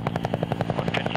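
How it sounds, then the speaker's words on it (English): An old Huey helicopter flying over the Wyoming plains: close, loud rotor blades thumping in a fast, even rhythm over a steady engine drone, with no voices. "Flying over the plains of Wyoming in an old Huey helicopter"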